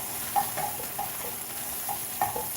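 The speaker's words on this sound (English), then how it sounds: "Saute these babies up in here." Meatballs sautéing in a pan: a steady low sizzle with soft, irregular stirring scrapes and light clinks of a utensil, close and moderately quiet, no voices.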